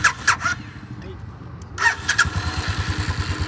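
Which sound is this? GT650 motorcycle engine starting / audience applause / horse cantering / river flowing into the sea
GT650 motorcycle engine starting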